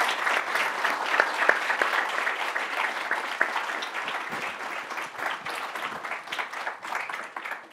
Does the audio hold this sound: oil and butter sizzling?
no